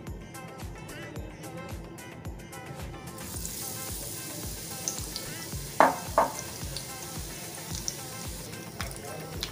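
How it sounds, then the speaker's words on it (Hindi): Batter-dipped bread pakoda fries in hot oil. A soft broadband hiss builds after a few seconds with a couple of sharp pops midway, while a voice is faintly present underneath. "अब हम ये बैटर में सैंडविच को अच्छे से डिप कर लेंगे इस तरह से, और फिर इसे फ्राई करेंगे"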